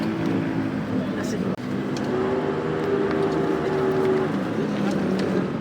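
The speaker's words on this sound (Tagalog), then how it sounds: "talagang gabi na maingay pa rin ang mga motor" Motorcycle engines rumble and drone nearby at night with a rising whine as they pass, a brief dropout midway, and faint voices in the background.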